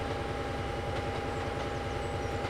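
CSX train running in Trainz Railroad Simulator 2022, a steady low rumble with a rhythmic clickety-clack of wheels over rail joints and a faint engine hum, continuous, no talk.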